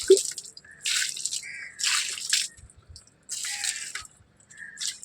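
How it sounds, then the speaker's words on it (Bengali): Small amounts of water splashing and dripping onto garden plants on a hot, sunny day, coming in several short bursts with quiet gaps between them, fairly close and not loud. "তো গাছগুলোকে একটুখানি হালকা জল দিয়ে দিলেই"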